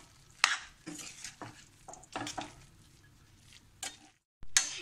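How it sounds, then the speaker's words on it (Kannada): Soppina palya, a greens stir-fry with grated coconut and peanut powder, stirred with a spoon in a pan: a series of uneven scraping strokes with soft clinks, close and moderately loud, with brief pauses between them. "ಇವಾಗ ಇದೆಲ್ಲ ಮಿಕ್ಸ್ ಮಾಡಿದ್ರೆ ನಮ್ಮ ಪಲ್ಯ ರೆಡಿ"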